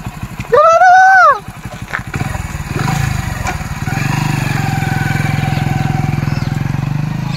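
A motorcycle engine idles and runs with a steady, close, rumbling putter that settles in after a brief loud tonal burst, while voices talk over it.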